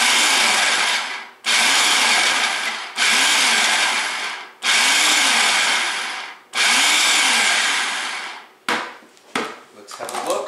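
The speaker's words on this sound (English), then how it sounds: "And then I'm going to pulse this about 5 times just to break up the butter." Food processor chopping butter into flour for scones, five loud bursts of whirring blades each about a second long, separated by short pauses, then a few shorter rattling pulses at the end; no talking.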